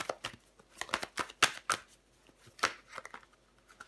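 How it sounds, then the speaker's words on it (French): A tarot card, the Devil card, is handled and turned over with a quick series of soft papery flicks and slaps, faint and close, scattered irregularly over a few seconds. "je vais recouvrir la carte du diable"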